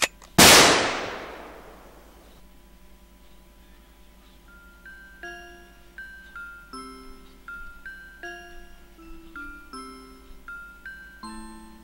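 A single sharp pistol gunshot in the Korean horror game 맹애완구 (Blind Love Toy) cracks loud and close, its blast decaying over about two seconds, followed by a pattern of soft chiming, bell-like notes.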